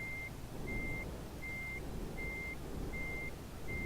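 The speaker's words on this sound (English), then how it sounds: "I'll back the trailer kind of into that spot" Steady, evenly spaced reversing beeps sound from a semi truck as it backs its trailer into a spot, repeating about every three-quarters of a second over a low, continuous engine rumble.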